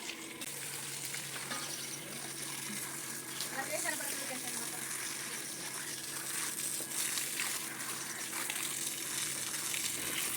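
Water hosed onto the walls of a newly built house to cure the masonry, a steady broad hiss and spatter that runs the whole time at moderate loudness.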